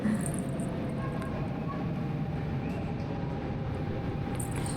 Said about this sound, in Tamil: நாங்கள் போகிற ட்ரெயின் வந்து வந்துட்டுது